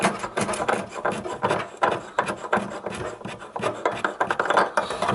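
A screw-in light bulb is twisted out of its socket in a kitchen cooker hood (extractor fan), making close, repeated rubbing and scraping sounds in short uneven bursts with no talking.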